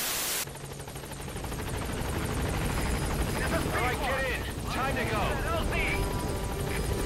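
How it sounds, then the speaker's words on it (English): A helicopter in the stealth action game Metal Gear Solid V arrives for extraction, its steady rotor roar and whine filling the scene with faint game chatter layered on top. "wait for the chopper"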